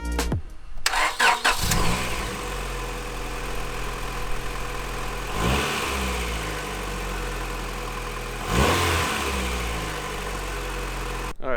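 A Honda Integra DC2 engine, freshly tuned up, cranks and fires, then settles into a steady mid-pitched idle broken by two sharp revs that climb and drop away, close by with no talking.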